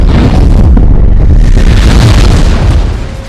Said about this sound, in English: realizes the explosion still happens